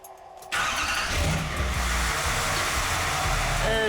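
A car engine cranks and catches after a fuel pump repair with a stripped ground cable fixed, then settles into a steady, fairly loud running rumble close by for the rest of the moment.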